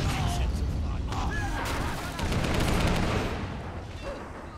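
Gunfire in the video game Men of War Assault Squad 2 crackles through a dense, noisy battle soundscape, with scattered shots and bursts over constant rumbling background noise at moderate loudness.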